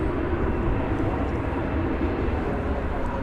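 Airplane slowly taxiing and turning at DFW Airport at night, a broad steady engine roar heard at a distance, even and sustained without clear peaks; no spoken words.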